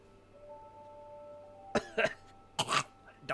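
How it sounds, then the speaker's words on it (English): A person coughs with phlegm: two short clusters of wet, throaty coughs, close and fairly loud after a quiet stretch. "Keep coughing because phlegm"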